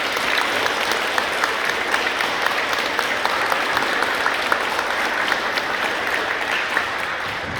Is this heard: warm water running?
no